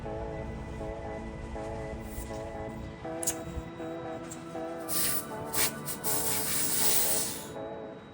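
Tire sealant sprays out of a punctured bicycle tire in several short, sharp hissing bursts that grow denser toward the end, over a faint steady hum.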